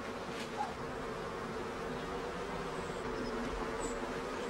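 Continuous buzzing of many bees around beehives, a steady droning hum that stays even throughout, with no voices.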